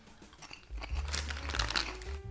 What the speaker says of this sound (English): Each bag of chips that I open, I'm just like, ooh, I've been excited to eat this.